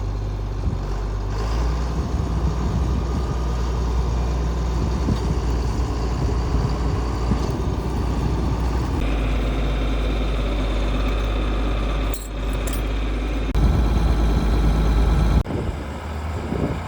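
John Deere tractor diesel engine running steadily at an even, low rumbling pitch for the whole stretch, close and continuous, with a brief dip and a shift in tone near the end.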